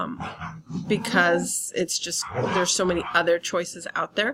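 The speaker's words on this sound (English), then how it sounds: "please excuse my dogs, they're deciding to be rowdy" Rowdy pet dogs bark and yip in scattered bursts in the background indoors while a person keeps talking steadily over them.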